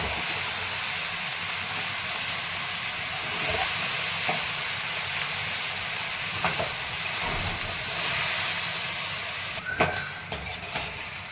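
Fenugreek greens sautéing in a pan: a continuous low sizzle and hiss with occasional spoon scrapes and a few sharper clinks near the end, close by and without speech.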